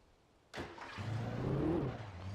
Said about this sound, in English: it's a muscle car